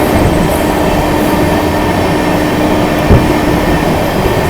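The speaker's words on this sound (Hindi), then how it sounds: "अभी अपनी ट्रेन स्किप कर रही है आनंद विहार रेलवे स्टेशन को" A Lucknow Mail Express train runs through Anand Vihar station without stopping, giving a steady, loud rumble of rail cars and wheels with a brief thump partway through.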